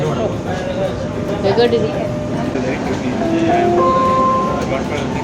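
A Dubai Metro train runs with a steady rumble and a thin whining tone, while a voice speaks over the noise.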